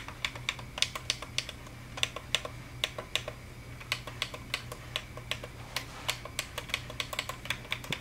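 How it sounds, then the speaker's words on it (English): Cursor buttons on an Akai MPC500 sampler pressed one after another, producing sharp, close clicks at an irregular steady pace with brief gaps, over faint background hum. "Cursor sounds really clicky too."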